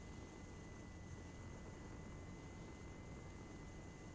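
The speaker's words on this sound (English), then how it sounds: "That helicopter out to the right is enemy." Enemy helicopter in the Arma 3 game near a runway, a faint, steady engine and rotor drone with a constant whine above it, distant and unchanging.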